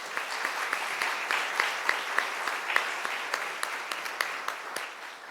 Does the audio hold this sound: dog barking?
no